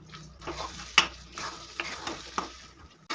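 A spiced masoor lentil mixture with salt, cumin and coriander powder is stirred in a pan, with soft scraping strokes and a few sharp utensil clicks over a quiet sizzle.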